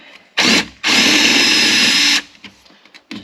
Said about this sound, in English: Just drilling the tops of the rivets off to get started.